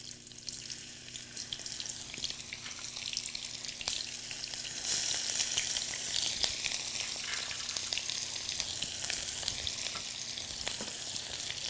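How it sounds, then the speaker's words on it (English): Onions sizzling and frying steadily in a little oil in a home kitchen pan, a continuous bright crackle at close range with occasional sharper pops and stirring, no talking. "Usually I cook the onions like really like I keep it raw, but this one I'm going to cook it a little bit more"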